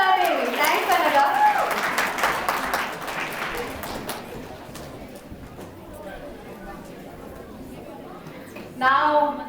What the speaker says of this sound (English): Give her a big round of applause again.